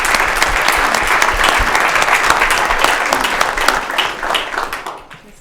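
Sustained audience applause at a school board meeting, dense steady clapping for about five seconds, then thinning and fading out at the end.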